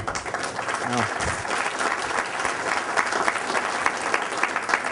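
An audience at a university business-school speaker series gives steady, sustained applause, a dense, even wash of clapping with a few voices underneath.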